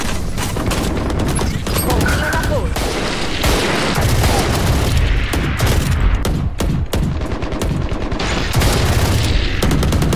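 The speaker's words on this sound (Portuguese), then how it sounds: "Granada!" Loud, dense in-game gunfire and an explosion from a grenade in the shooter Valorant, with overlapping shots and booms running continuously, and a player's voice calling out during the fight.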